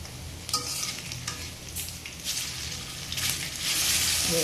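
Bottle gourd leaf fritters fry in hot oil with a close, steady sizzle, broken by the scrape and clink of a spatula turning them, and the sizzle grows louder toward the end.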